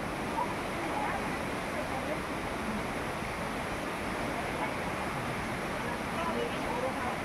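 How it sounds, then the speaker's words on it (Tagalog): Strong rushing water at a waterfall in Siargao gives a steady, dense roar that stays even and fairly close for the whole stretch, with no breaks. "ang lakas ng tubig"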